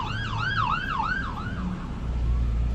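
Ambulance siren wailing in a rising and falling pattern as it passes on a road, heard from inside a truck, with low engine rumble underneath and the siren fading slightly toward the end.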